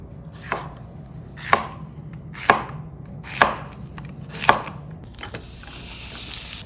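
An onion chopped with a knife on a board for a homemade smash burger, five evenly spaced crisp thuds about a second apart, close and clear with no talk.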